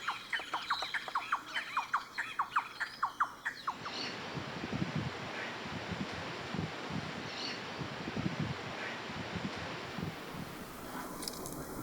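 A peach-fronted parakeet in the Brazilian wild gives a quick series of loud, harsh squawks. The calls then give way to steady rustling and wind, with a few faint calls afterward.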